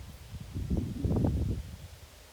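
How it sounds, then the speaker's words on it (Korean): Wind gusts rumbling low against the microphone, swelling in the middle and easing off toward the end, with no voices. "바람이 붑니다. 바람 소리 들리시나 모르겠네요."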